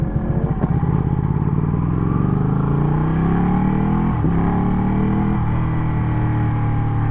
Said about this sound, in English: I didn't move the throttle at all when I changed gear then.